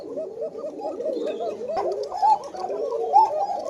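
Pigeons at a pigeon farm coo close by in a continuous, overlapping stream of soft, throaty rolling calls.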